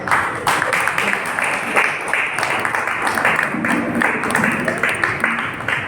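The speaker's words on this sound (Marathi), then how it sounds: "जोरदार टाळ्या झाल्या पाहिजे" An audience applauds at an anniversary ceremony of a journalists' action committee in Solapur, a dense, continuous clapping that fills the space at fairly loud level, with voices mixed in.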